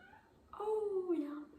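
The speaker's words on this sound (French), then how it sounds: "il y a un petit chat qui arrive" A single drawn-out cat meow rises and falls, fairly close and clear, lasting about a second.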